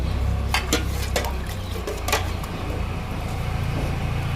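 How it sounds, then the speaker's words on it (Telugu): Green tea liquid is poured into potted money plants, making a steady, close splashing wash over a low rumble, with a few sharp clinks in the first half. "ఈ 3 మొక్కలకి ఇచ్చేద్దాము గ్రీన్ టీ లిక్విడ్."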